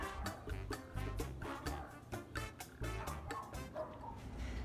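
Dog barking repeatedly in short, sharp bursts through a busy, steady background, the barks moderately loud and fairly regular across the stretch.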